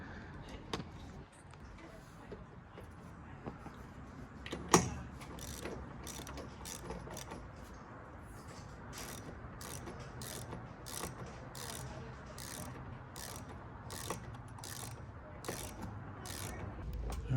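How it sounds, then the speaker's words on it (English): A ratchet tightens the mounting bolts of an Openroad4WD 270 awning on a Tacoma, giving steady rapid clicking bursts close by with a brief clunk partway through. "So now it's just to tighten all those bolts"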